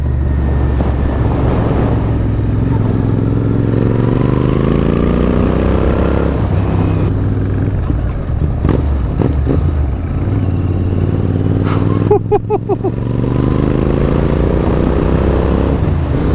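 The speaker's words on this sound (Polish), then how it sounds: "Tutaj ciągnie naprawdę. Taki dorosły, duży motocykl." A big Royal Enfield motorcycle on a test ride pulls hard under load, its engine note climbing and dropping through shifts, loud, close and continuous.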